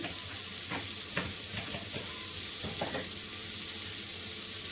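Masala and red chutney frying in a pan, a steady close sizzle with occasional stirring taps and scrapes, with no voices over it.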